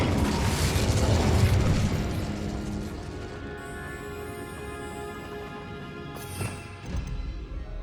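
An Incendio fire spell erupts in Hogwarts Legacy with a loud burst and roaring whoosh that fades into a sustained ringing magical tail, then a second smaller pop near the end.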